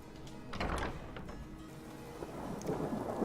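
Rain and rolling thunder in the video game Skyrim, a broad rumbling roar with a couple of heavy swells over steady rainfall, fairly quiet and without talk.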